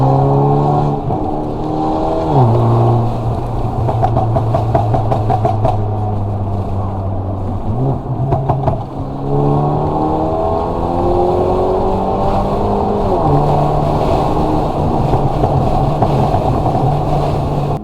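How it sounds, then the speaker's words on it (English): Stage 2 tuned Mercedes CLA driven with the windows cracked, its engine droning loud and close through several gear changes, rising and dropping in pitch with turbo whoosh and wind rush, and nobody speaking. "And you can hear that turbo noise a lot more."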